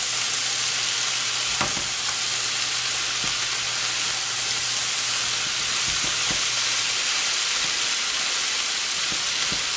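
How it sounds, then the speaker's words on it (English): Onion caramelizing in a pan while cabbage is sautéed fills the whole stretch with a steady, loud sizzle and frying hiss. A few brief clicks and stirs break through it. "The onion is caramelizing"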